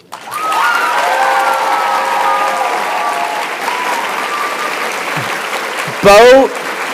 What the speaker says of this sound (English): let's clap one more time loud enough for her to hear us all the way in Arizona